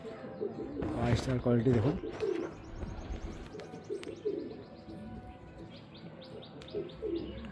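Andhra pigeons kept at home coo in soft, repeated rolling calls mixed with chirps, close by, while someone talks over them.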